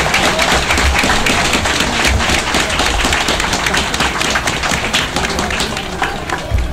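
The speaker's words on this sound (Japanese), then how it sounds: "両チームにもう一度大きな大きな拍手をお願いいたします" An audience at the All Japan Manufacturing Industry spinning-top battle in Shibuya applauds both teams after the third-place match: dense, loud, sustained clapping with voices mixed in.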